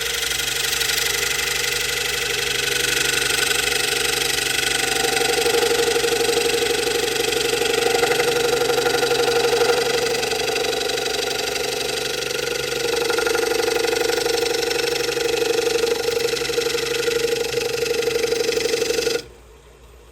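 Wood lathe spinning dried wood while a gouge makes a bevel-rubbing cut, a loud continuous motor hum with a rough scraping hiss that rises and falls, then cuts off abruptly near the end.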